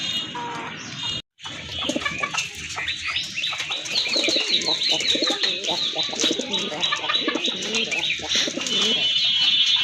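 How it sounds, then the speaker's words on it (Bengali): A pair of large red pigeons coo among many birds at a pigeon market, with steady chirping and fluttering throughout; the calls are fairly loud and close, with a brief pause near the start. "আরেক জোড়া কবুতর দেখতে পাচ্ছেন, এটা হচ্ছে আপনার রেড কালারের ভিতরে এক জোড়া বড় পায়রা কবুতর"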